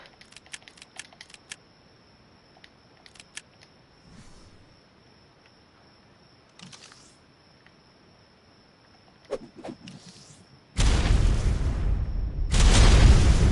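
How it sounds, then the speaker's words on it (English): A cluster grenade in ARK goes off as a sudden loud burst of blasts after a long quiet stretch of faint clicks and taps, with a second strong burst following close behind. "Cluster grenade."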